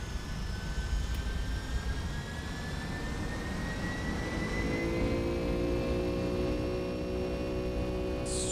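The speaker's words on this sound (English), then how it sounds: "Power up the engines." Jet engines of a Boeing 757-200 in the X-Plane 10 flight simulator spool up for takeoff, a steady loud roar with whining tones that climb as thrust builds, continuous throughout with no talking.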